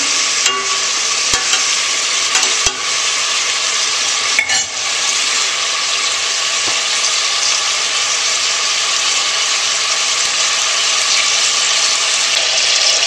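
Lamb pieces and bacon sizzle and fry steadily in a pan for a stew with turnips, a dense continuous crackle broken by a few sharp clanks and shuffles as the pan is shaken and the meat tossed; no voices.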